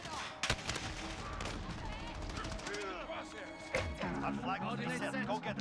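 Rapid automatic gunfire from the video game Modern Warfare (2019) pops in bursts over constant game noise, with a person talking over the shooting.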